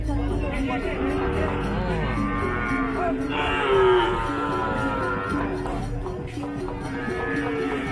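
Cattle mooing at a busy island cattle market, several long lowing calls near and far over a constant murmur of crowd chatter and people talking.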